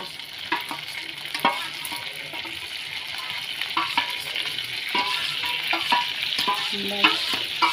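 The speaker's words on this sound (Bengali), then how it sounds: "নাড়তে থাকো। ভালো করে।" Pasta in gravy is stirred in a pan, with a spoon scraping and clinking against the metal over a continuous sizzle, the knocks coming irregularly throughout.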